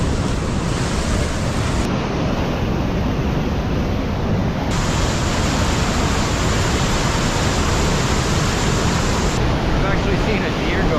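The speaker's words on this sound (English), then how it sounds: "Nice little falls right here." A small waterfall on a big river rushes in a steady, loud broadband roar, with gusting wind buffeting the microphone throughout and no other distinct sounds.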